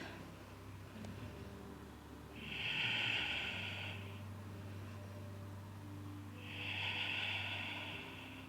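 During a full-body yoga practice, slow deep breaths come close and soft in two long airy exhales a few seconds apart, with a faint low hum underneath and no talking.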